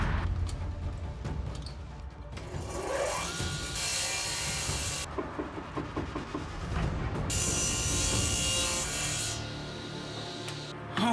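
A hand saw rasps back and forth through wood in long, continuous strokes, close and steady for about eleven seconds, with no talking.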